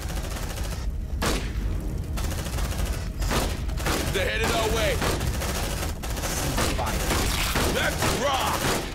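Heavy gunfire in Aliens: Dark Descent, dense continuous bursts and booms of battle noise with voices shouting over the shooting throughout.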